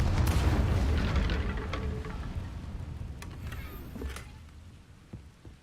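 An Incendio fire spell cast in the Hogwarts Legacy video game on PC, a loud rumbling burst that swells and slowly fades, with a few crackling pops near the end.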